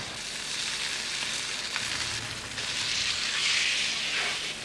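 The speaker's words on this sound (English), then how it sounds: "Andrew's got the fillet of beef in the pan there that he's sealing" A fillet of beef sears in a hot pan, a broad continuous hiss and sizzle that swells louder toward the end, close and steady with no talk.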